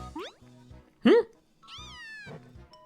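Litten, the fire cat Pokémon from Pokémon Sun and Moon, gives its synthesized meowing cry in several short, chirpy bursts, with a louder burst in the middle and a longer wavering call after it.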